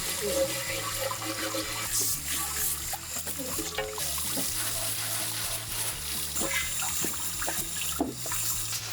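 Water runs steadily while old soil is washed from the roots of a large bonsai being repotted, a continuous splashing trickle with a low hum underneath.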